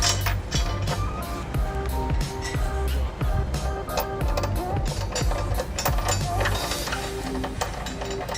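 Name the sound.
ratchet snugging a hitch bolt into a weld nut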